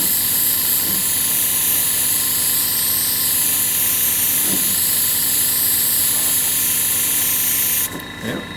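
A spray gun hisses loudly and continuously, laying a coat of silver flake paint over a silver base coat on a shop truck, with a few short bumps in the spray before it drops off near the end.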